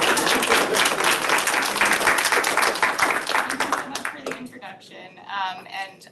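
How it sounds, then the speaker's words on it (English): Audience applause at a panel event on gun violence prevention, steady clapping for about four seconds that fades out as a voice begins speaking near the end. "Round of applause."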